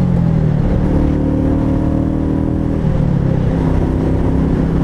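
A Royal Enfield Meteor 350 motorcycle pulls out of a sweeping left-hand bend in third gear, its engine close and loud, holding a steady rising drone under heavy wind rush.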